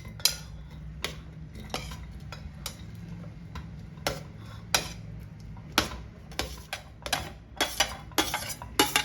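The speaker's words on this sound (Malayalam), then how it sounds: "പൈനാപ്പിളൊക്കെ ഞാൻ കുക്കറിലേക്ക് ഇട്ട് കൊടുത്തിട്ടുണ്ട്." Pineapple pieces drop into a metal pressure cooker, making a scattered series of sharp clinks and taps against a low steady hum.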